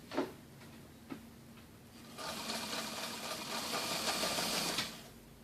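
A domestic sewing machine stitching fabric under the needle, a few soft ticks first, then a steady close whirring run of about three seconds that stops abruptly.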